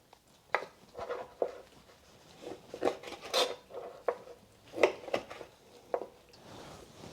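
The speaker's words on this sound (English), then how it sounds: "I'm just going to slice them, cut them into the little ribs" A knife cuts through a rack of pork ribs, separating them into individual ribs, with a series of close, irregular knocks and clacks of the blade against the cutting board at a quiet level.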